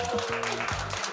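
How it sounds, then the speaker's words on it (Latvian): Audience applause at a televised innovation team competition, a brief continuous burst of clapping under a voice and tonal background sound. "Ar aplausiem sveicam!"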